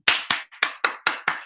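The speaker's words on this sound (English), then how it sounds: "Rounds of applause." Six sharp, evenly spaced hand claps ring out close and loud, a brief burst of applause with nothing else behind it.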